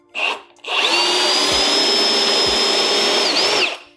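A Milwaukee M18 FUEL Super Hawg right angle drill whirs up to a loud, steady high-pitched spin for about three seconds, then winds down, close by after a brief blip of motor at the start.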